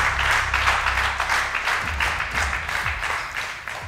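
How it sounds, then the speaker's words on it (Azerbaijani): Studio audience applause on an Azerbaijani TV show, a steady wash of many hands clapping that holds loud and even throughout, with no voices on top. "alqış var."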